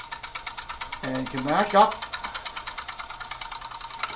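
A serger overlock sewing machine runs steadily, stitching along the opening of a pair of shorts in a rapid, even mechanical buzz, while a person speaks briefly over it.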